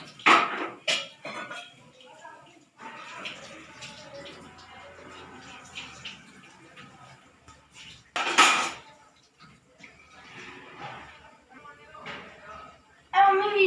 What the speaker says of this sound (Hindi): बर्तन धो रहा है